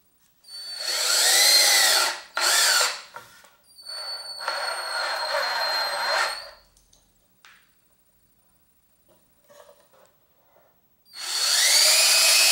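A power drill drives screws into a homemade T-shirt screen printing press in several whining bursts, some ramping up and down, with pauses and light clicks between, close by.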